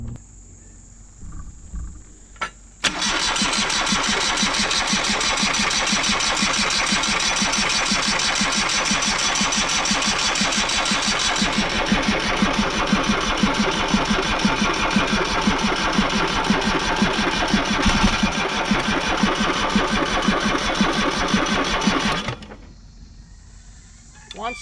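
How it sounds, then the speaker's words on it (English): John Deere 2653A mower's three-cylinder Yanmar diesel cranking on a booster pack, a loud close rhythmic starter churn running steadily for about twenty seconds without catching, then cutting off; brief faint sounds before and after. "Let's see if we can get it to crank long enough"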